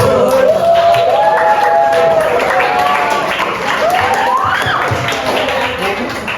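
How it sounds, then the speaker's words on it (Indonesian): Classroom applause from a group of pupils, continuous clapping mixed with children's cheering and shouting voices, loud and close throughout. "Tepuk untuk Maher Ibra."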